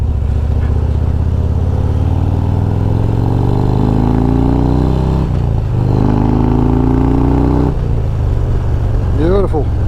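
Stage 2 Screaming Eagle 2023 Harley-Davidson Road Glide Special rumbling loud and close while riding through roundabouts, its deep V-twin note rising and falling with throttle changes and downshifts, a brief engine blip near the end.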